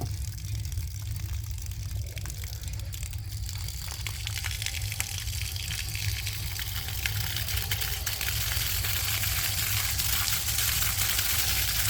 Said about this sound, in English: let some water out.